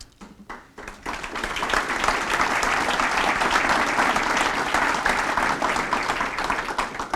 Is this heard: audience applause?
yes